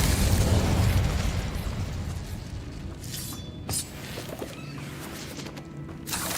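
Incendio fire spell burst in the Hogwarts Legacy video game: a whooshing, roaring flare of flame that starts loud and dies down into softer crackles, with a few small pops and clinks.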